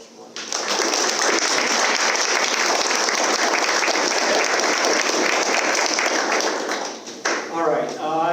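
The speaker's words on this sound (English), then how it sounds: "He deserves a round of applause." An audience at a student research symposium breaks into loud, sustained applause, dense clapping filling the room for several seconds before fading, with a voice beginning to speak at the end.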